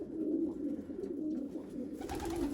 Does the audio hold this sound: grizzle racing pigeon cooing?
yes